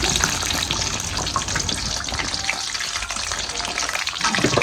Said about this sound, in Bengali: এই যে অনেক সুন্দরভাবে ভাজা হয়েছে